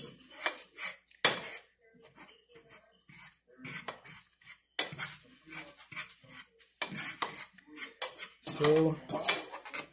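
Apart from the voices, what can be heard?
mashing food in a bowl with utensils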